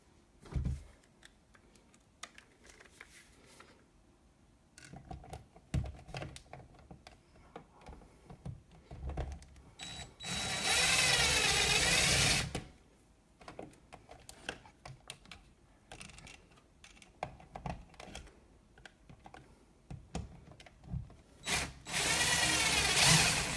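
While a Lutron Caseta dimmer switch is installed, a power driver whirs in two bursts of a couple of seconds each, set among small clicks and handling knocks of parts close by, with no speech.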